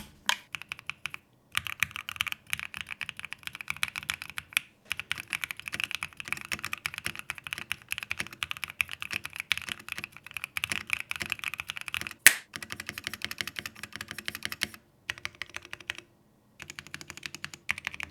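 Steady, fast typing on an Aurora 65 mechanical keyboard with RGB underglow, giving a deep, thocky clatter of keystrokes close up. It runs continuously for the length, with a couple of brief pauses and one sharper clack midway.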